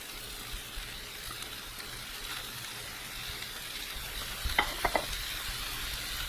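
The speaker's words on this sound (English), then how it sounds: "So we're going to put the meatballs in a preheated pan." Ground pork meatballs fry in a preheated pan in their own fat, giving a steady low sizzle with soft stirring and a few brief clicks near the end. No one speaks.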